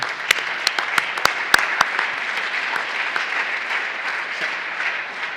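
A church congregation at a Sunday Mass claps together, a few sharp, distinct claps standing out at the start before settling into softer, steady applause that gradually thins.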